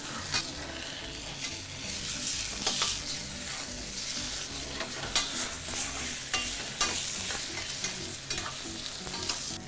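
Beef cheek sears in a hot pan with a steady, dense sizzle and crackle, broken by louder spits and scrapes as the meat is stirred and turned; close and continuous throughout, with no talking.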